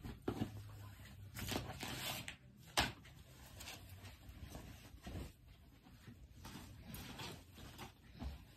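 An Amazon parcel containing palazzo pants being opened at home, close rustling plastic and crinkling packaging with scrapes and a sharp tear, no talking.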